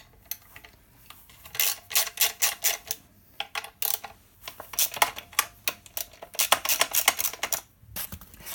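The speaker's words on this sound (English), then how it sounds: "Using a 4mm socket." Rapid ratcheting clicks from a 4mm socket wrench undoing small bolts on the kickstand side of a two-wheeled Micro scooter's folding block, in close bursts with brief pauses.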